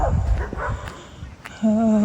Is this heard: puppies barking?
yes